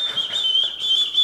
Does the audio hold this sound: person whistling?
yes